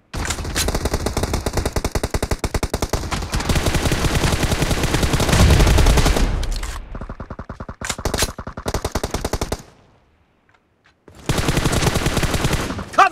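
Sustained automatic gunfire rattles through a team deathmatch video game match in dense rapid bursts, then breaks off into scattered shots, a brief near-silent gap, and a final loud burst.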